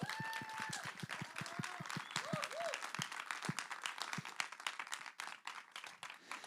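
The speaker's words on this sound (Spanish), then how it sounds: "Un aplauso." Audience applause at a live podcast recording at an academy, fairly quiet, with individual claps distinct and a few voices audible underneath.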